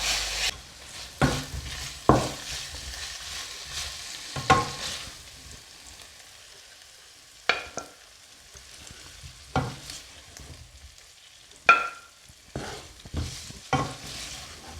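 Beef being stir-fried with garlic, pepper and several sauces, giving a steady close sizzle with repeated sharp scrapes and clanks of a spatula against the pan, no talking.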